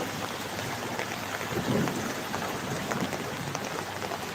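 Heavy rain hisses down steadily in a dense wash, with a low rumble of thunder swelling briefly midway through the downpour.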